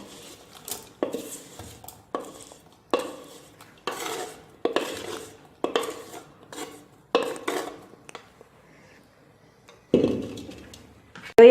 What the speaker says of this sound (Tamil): வதக்கி வச்ச பிரண்டையை மிக்ஸி கப்பில் போடலாம்.